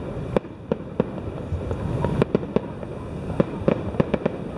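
A fireworks display in JB in 2015 pops and cracks in a rapid, irregular string of sharp bangs, some close and loud, others fainter, over a busy crowd murmur.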